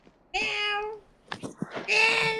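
Two drawn-out, high meows from a kitten, the second louder, separated by a brief stretch of soft rustling and clicks.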